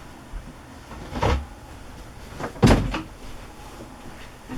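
A drawer of fabric being opened and closed, two distinct wooden thuds and slides a second or so apart, close and fairly loud in a quiet room.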